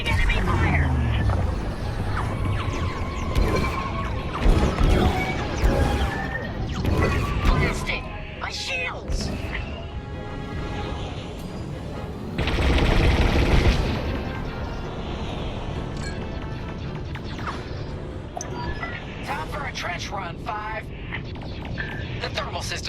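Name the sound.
enemy fire hitting starfighter in video game Star Wars: Squadrons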